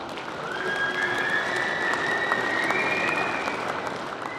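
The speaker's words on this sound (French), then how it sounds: "Et comme au théâtre, on va applaudir." An audience at an Easter celebration applauds as at a theatre curtain-close: steady, even clapping for a few seconds, with a faint rising tone drifting above it.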